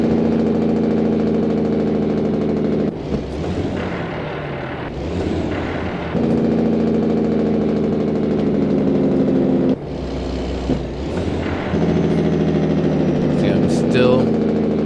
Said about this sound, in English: Still floating through my gears, downshifting.